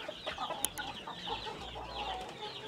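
Black Australorp breeder chickens cluck softly on a Cebu farm, with scattered low clucks and one sharp squawk rising over a faint, steady barnyard background.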